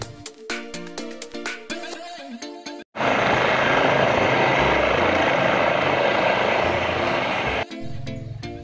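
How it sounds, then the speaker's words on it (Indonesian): A toy helicopter takes off with a loud, steady whirring buzz of spinning rotors that holds for several seconds after some clicking handling sounds. "ayo teman-teman, kita terbangkan helikopternya."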